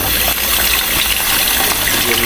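Cold water gushes steadily and loudly at a Hokkaido shrine hand-washing basin, pouring over hands as they are rinsed, a continuous close splashing flow with no pauses.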